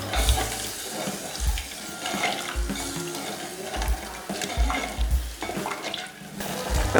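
A prepared mixture for Bombay chutney poured into a pan, with a continuous splashing, liquid pour and light sizzling, close and fairly loud, with clattering utensil knocks throughout.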